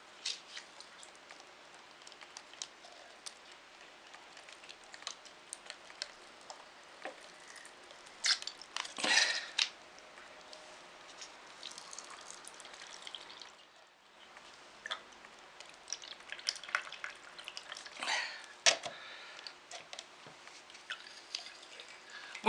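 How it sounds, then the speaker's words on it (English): Water back-flushes in reverse through a Sawyer water filter in irregular squirts and drips. The spurts are faint and wet, with a few stronger bursts in between, and the flow runs on for over twenty seconds with no talking. "We need to keep on doing this till the water comes out clear."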